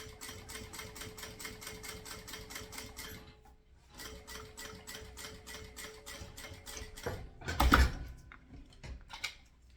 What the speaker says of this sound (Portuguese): Eu venho e vou passar uma costura aqui de pesponto.